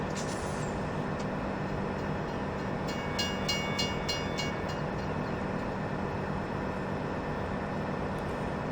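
A train running in the Farming Simulator 17 video game gives a steady, loud rumbling drone throughout, with a brief rhythmic clatter of metallic squeals partway through and no talk.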